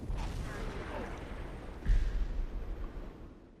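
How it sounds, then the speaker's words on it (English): Muffled booms of film explosions from the movie Source Code roll in the background, the loudest striking midway then rumbling and fading, with faint voices earlier. "explosions in the background."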